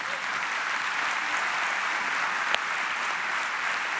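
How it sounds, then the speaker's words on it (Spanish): An audience at a church sermon applauds steadily, a dense, even wash of clapping with one brief sharper clap near the end. "dale un aplauso fuerte al Señor"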